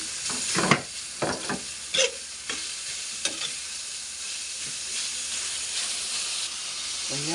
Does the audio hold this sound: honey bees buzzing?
no